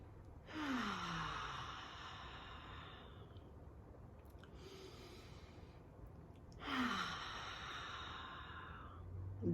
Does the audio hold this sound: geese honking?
no